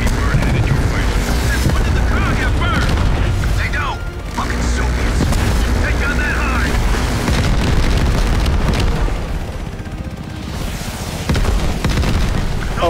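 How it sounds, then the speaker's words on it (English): Repeated heavy booms and rumbling explosions from a Call of Duty Black Ops Cold War campaign mission, dense and continuous, with crashing debris and mechanical battle noise throughout. "Lots of explosions, of course. Always good to see in a Black Ops campaign."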